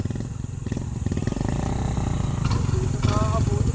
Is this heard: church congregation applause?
no